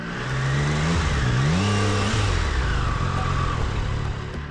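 A Triumph Daytona 660 sport motorcycle engine revs and climbs through its gears, loud and close, the pitch rising and falling as it accelerates along with a rushing wind noise.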